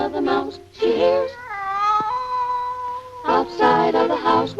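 A cat in a classic Harmon-Ising cartoon yowls a sung serenade to its love in a backyard, with long wavering held tones in the middle, framed by busier orchestral-sounding passages before and after.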